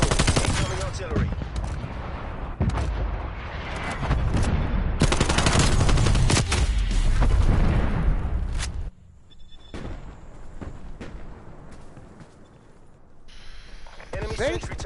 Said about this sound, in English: Targeting active. Incoming artillery.